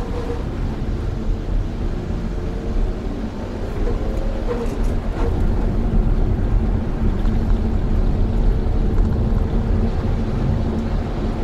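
Hyundai Veloster N pulling away gently from a standstill, a low steady engine drone with road and wind rumble that swells slightly as it moves off, no talking.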